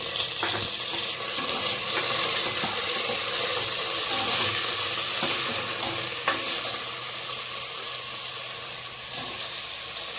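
Potatoes frying in a pan of mint pulao, a bright continuous sizzle close by with scattered clinks and scrapes of stirring, steady and moderately loud throughout.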